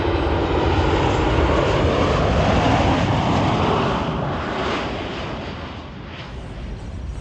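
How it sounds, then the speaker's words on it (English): Airplane landing at Anchorage, heard from a park, a loud broad jet engine roar close overhead that stays strong and then slowly fades as the aircraft passes. "I've been watching planes land."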